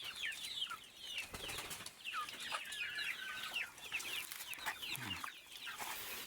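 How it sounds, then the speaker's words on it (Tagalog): Several chickens cluck and chatter at moderate distance, with a chick among them, in a busy, continuous murmur of short calls over faint background noise. "May nakapasok na naman na isang sisiw"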